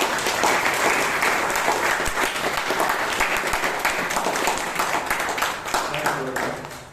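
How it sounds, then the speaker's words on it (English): Audience applause fills a Toastmasters club meeting in Bangalore, a dense, steady patter of many hands clapping that holds for the whole stretch and tapers slightly at the end. "Give Chiranth a big round of applause."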